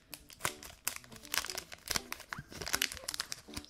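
Plastic wrapper of a Pokémon card booster pack being crinkled and torn open, close and fairly loud, with irregular rustling bursts and sharp crackles throughout.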